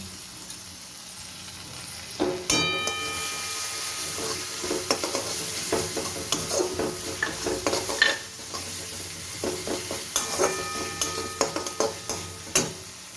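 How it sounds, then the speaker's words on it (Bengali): Masala fries with tomato sauce for a fish kalia, sizzling steadily while a utensil stirs and scrapes against the pan in repeated clinks and scrapes, close up with no talking. "আমার মশলাটা ভাজা ভাজা হয়ে এসছে এবার আমি টমেটো সসটা দিয়ে দিলাম"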